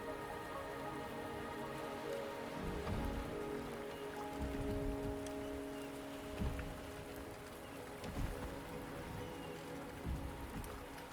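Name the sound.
rain in the video game Wuthering Waves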